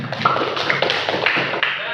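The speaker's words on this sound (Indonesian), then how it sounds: "Oke, tepuk tangan." A class of students applauds in a classroom during a biology lesson, a close, steady patter of many overlapping claps lasting a couple of seconds, with voices mixed in underneath.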